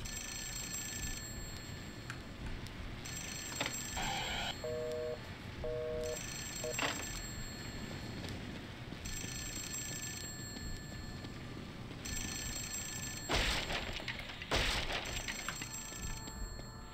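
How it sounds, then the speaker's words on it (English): A telephone rings repeatedly in The Suffering: Ties That Bind, regular bursts of bell tone separated by short gaps over a murky game ambience, with a couple of sharp cracks near the end. "we have to wait for the phone to stop ringing"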